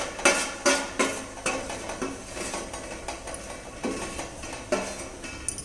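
Semolina is poured into a pot of boiling water and stirred, with a rhythmic series of close metallic scrapes and clanks of a spoon against the pot, about two per second over a low bubbling background.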